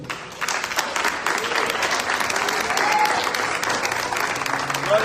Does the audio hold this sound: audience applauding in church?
yes